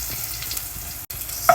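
Ginger and garlic sautéing in a pan for chicken soup, a steady close sizzle with faint stirring scrapes, a brief break near the end, no voices.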